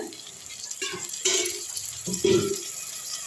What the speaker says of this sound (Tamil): இதில் இப்போ தண்ணி அளந்து ஊற்றிடலாங்க